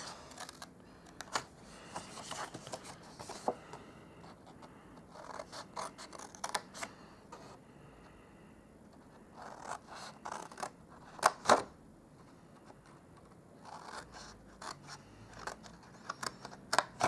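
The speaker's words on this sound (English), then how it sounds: "I will cut up all of these score lines for now" Scissors snipping along score lines in card stock for a note card gift box, a series of short, crisp cuts scattered irregularly with quiet pauses between them, close and fairly soft.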